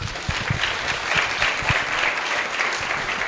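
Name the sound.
audience applause at a conference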